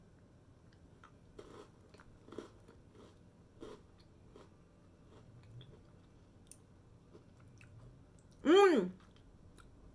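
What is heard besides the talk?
biting and chewing dark chocolate kruidnoten spice cookies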